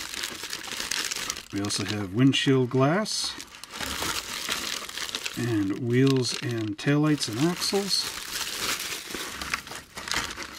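Plastic bags from a 1968 Buick Opel GT model car kit by AMT/ERTL crinkle and rustle steadily throughout, close up, while someone talks over the handling.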